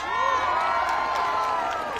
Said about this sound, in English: That crowd is manufactured.